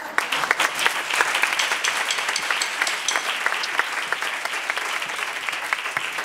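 Applause from a theatre audience for Plácido Domingo at a televised semifinal show, a steady dense patter of many hands clapping at moderate distance, sustained throughout with no voices over it.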